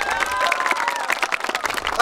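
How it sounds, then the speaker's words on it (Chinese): An audience applauds children after their traditional performance in a rural village, a burst of clapping and crowd noise mixed with voices and some cheering. "让我们再一次为他们掌声鼓励鼓励"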